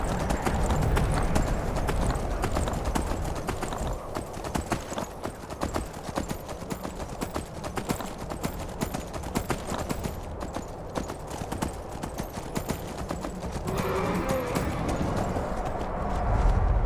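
Steady horse hooves clip-clop at a trotting rhythm throughout in Skyrim, close and continuous, with a brief horse whinny and faint background noise.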